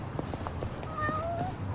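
A cat meows in the video game Yakuza: Like a Dragon, a few short rising mews heard up close over low game background ambience, with faint talk underneath.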